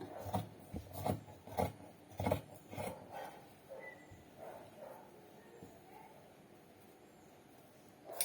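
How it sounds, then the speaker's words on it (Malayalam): Scissors cut along the side of a blouse fabric piece with a run of crisp, rhythmic snips, close and fairly quiet, then a few softer sounds of the cloth being handled. "ഈ കട്ടിങ്ങിൻ്റെ ഭാഗം കണ്ടിക്കുവാണ് സൈഡ് കണ്ടിക്കുവാണ്"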